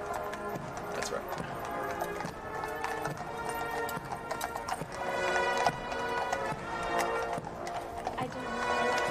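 Steady clip-clop of horse hooves at Margaret Thatcher's funeral procession, many rhythmic strikes at walking pace, with people talking over them and occasional snorting.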